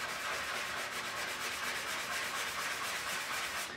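A fine-grit sanding block rubs by hand over a motorcycle gas tank on a GS550 cafe racer, making quiet, rapid back-and-forth scratchy strokes in a steady rhythm with no talking.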